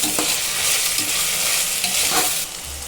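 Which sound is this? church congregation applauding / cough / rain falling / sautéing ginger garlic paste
sautéing ginger garlic paste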